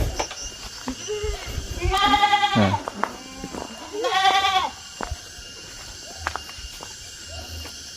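Goats raised on a farm in a forest give two loud, wavering bleats a couple of seconds apart, near and clear over rustling movement, footsteps and someone talking.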